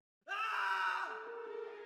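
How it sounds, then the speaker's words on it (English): A man lets out a single long, harsh yell of pain, a horror-story sound effect that starts abruptly after silence, loud and sustained before fading slightly as it trails on. "Someone, a man's voice, yelling."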